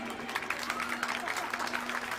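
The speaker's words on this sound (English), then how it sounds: "A round and thunderous applause for training our students" An audience at a school's annual sports meet at St. Joseph Anglo-Indian Higher Secondary School applauds, a dense, even patter of clapping from a crowd, moderately distant.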